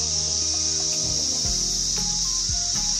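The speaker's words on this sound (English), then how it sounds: "these cicadas are bloody noisy" Cicadas buzzing in forest bushland near a beach campsite, a loud continuous high-pitched shrill drone holding steady throughout, with faint low rumbles and clicks underneath.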